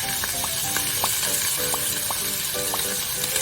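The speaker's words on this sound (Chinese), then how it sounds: "排骨煎至底部金黄，我这里煎了大概2分钟吧" Pork ribs pan-fry in a flat frying pan for Cantonese-style pan-baked ribs, with a steady, dense sizzle close up and light, regular clinks of a utensil against the pan throughout.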